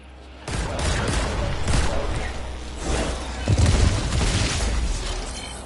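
A booming explosion in the video game Warframe, with falling detritus. A sudden loud burst opens, then a sustained crackling, rumbling barrage follows with repeated blasts and debris.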